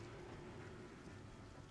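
Storm rain pounds steadily on a roof, a dense, continuous hiss and patter heard faintly and alone for a brief moment.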